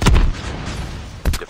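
A grenade goes off in Call of Duty Mobile as a deep, close boom, with a second heavy thud following about a second later against a low gameplay rumble.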